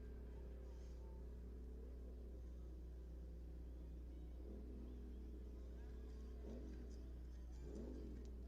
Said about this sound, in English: The IMCA Race Saver Sprint Cars.